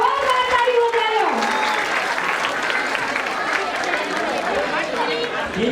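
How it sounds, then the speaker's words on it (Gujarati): An audience at a community Jayanti celebration applauds steadily after a final performance, with crowd chatter and a voice speaking over the clapping. "ये लास्ट परफॉर्मेंस वगैरह जोरदार ताड़ी वगाड़ो"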